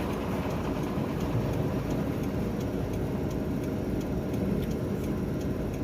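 A 16,000-liter fuel tanker truck passing on a damaged road on the way to Takengon: steady, loud low-pitched engine and road rumble, continuous and close.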